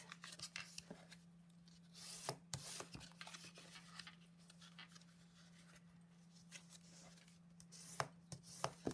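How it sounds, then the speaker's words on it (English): A bone folder or similar tool burnishing along the scored edges of cardstock for a handmade Christmas gift box, heard as quiet, close scraping and rubbing strokes with sharp little clicks, over a low steady hum, with no voice. "So we're just going to burnish through on all of the sides."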